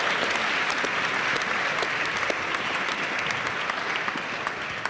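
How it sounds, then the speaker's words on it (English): Dense, steady applause from a large conference audience welcoming Jimmy Wales on stage at DLD Conference 2012, a continuous wash of many hands clapping close and loud throughout. "And give an applause to Jimmy,"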